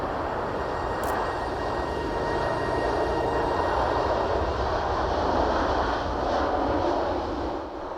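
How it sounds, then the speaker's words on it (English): A six-engine cargo plane with 32 landing wheels, able to carry 250 tons, gives off a loud, steady roar of jet engines. The sound holds constant before easing slightly at the end. "The 6-engine plane can carry 250 tons of cargo and needs 32 wheels to land"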